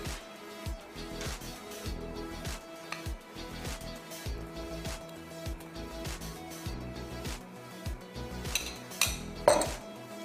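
Peanut butter being scooped into a bowl of oats, with repeated soft scraping and tapping of a spoon against the dish, plus occasional sharper clinks, close and steady over several seconds.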